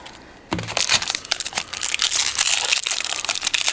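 Foil wrappers of Shadows Over Innistrad booster packs being torn open and crinkled, a close, busy run of crackling and rustling that starts abruptly after a brief quiet moment and continues without pause.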